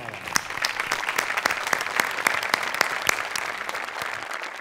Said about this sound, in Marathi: आमिर, तुझ्यासाठी उभं राहून टाळ्या.